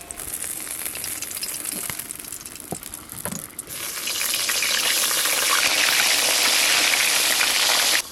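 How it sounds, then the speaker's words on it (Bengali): Eggplant slices fry in hot oil for a Bengali festive meal. A light crackle grows into a loud, dense, continuous sizzle about halfway through, close up, with no voices. "বেগুন ভাজা হয়ে গেছে, তুলে নেবো"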